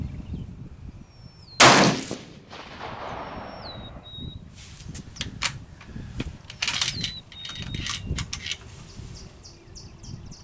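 A single gunshot fired at a target on an outdoor shooting range with an Arken-equipped setup: one loud, sharp crack near the start, then a decaying tail and faint clicks and rustling.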